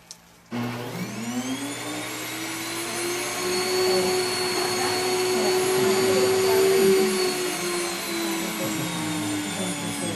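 An electric wheat grain mill switches on with a click and settles into a loud, steady motor whine and roar that holds without pause.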